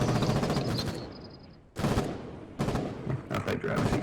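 Gunfire in the video game Foxhole, with bursts of rapid shots and loud rattling volleys, a short lull, then renewed clustered firing close by.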